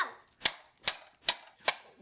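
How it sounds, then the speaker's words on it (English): A child bangs toy trucks together, four sharp, evenly spaced clacking impacts, each loud and crisp with brief silence between. "Wyatt, I need you to stop banging them together like that"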